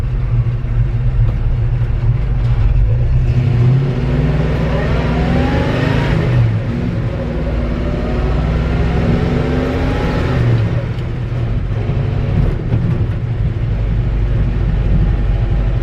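The engine of a 1963 Chevy C30 truck with a slipping clutch rumbles loudly and close up, rising in pitch through two drawn-out revs that climb and fall back while driving.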